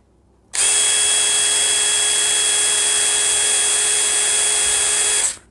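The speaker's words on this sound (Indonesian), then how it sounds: "saya akan maksimalkan untuk pembuka baut di speed 2" A DeWalt DCF922 cordless impact wrench running at speed 2 to loosen a bolt starts abruptly into a loud, steady high-pitched whine, holds for about five seconds, then cuts off.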